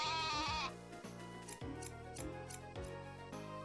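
Sheep bleat in the farming game Story of Seasons: A Wonderful Life, several short wavering cries in a row over soft game music, with an earlier clipping, snipping sound.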